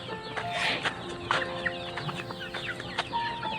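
Several chickens cluck and chatter in a steady, overlapping stream, with sharp higher calls breaking through now and then; no talking.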